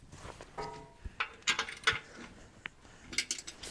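Socket wrench ratcheting on a bolt of a John Deere 310G engine, faint short bursts of clicking with metallic clanks in between, close by in a quiet workshop.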